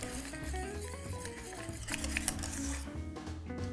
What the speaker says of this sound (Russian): Отправляем в него сливочное масло. Перемешиваем.